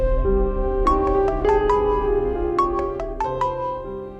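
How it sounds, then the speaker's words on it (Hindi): Phone ringing with a repeating melodic electronic ringtone, two rising phrases of bright tones over a low background hum, loud and close, no speech. "बीबी साहबा का बार बार फोन आ रहा है मुझे।"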